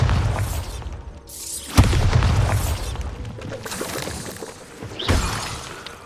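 Explosive blasts from the Bombarda spell in Hogwarts Legacy, several loud booming bursts with shattering debris, one sharp impact standing out among rumbling detonations and clattering fragments.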